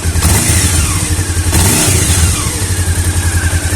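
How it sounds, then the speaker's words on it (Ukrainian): Honda CB500 motorcycle engine running steadily close up, a loud throbbing idle with a slight swell in revs partway through, no talking. "Мотор працює дуже добре"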